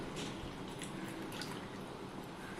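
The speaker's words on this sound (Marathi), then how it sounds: "ह्या धुवून घेतलेल्या अळीमध्ये आपण पाणी टाकून घेऊया" Water poured over washed garden cress seeds in a bowl gives a steady, close liquid splash and trickle with faint drips, continuous throughout and with no talking.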